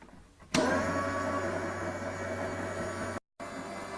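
An electric pasta extruder machine starts up with a sudden jump into a steady, loud motor whir and low hum as it mixes dough, cutting out briefly near the end before resuming, with no talk.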